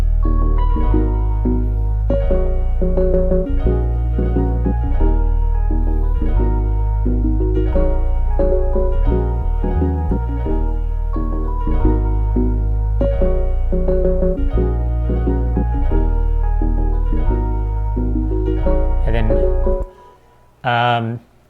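A looping instrumental beat with heavy bass, chords and melodic layers plays steadily, then cuts off abruptly near the end with a brief stutter.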